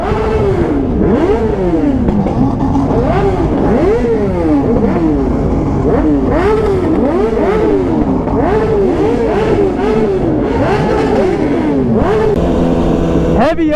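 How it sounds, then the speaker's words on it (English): A BMW S1000RR sport bike revs hard at full throttle for a burnout, loud rapid rising and falling engine wails repeated over and over, close and continuous. "I just wanted to do a little burnout"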